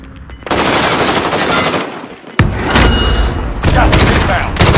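Video game gunfire crackles in sustained, dense automatic bursts during a squad firefight, loud and close, with one sharp gap midway and more rapid shots resuming after it.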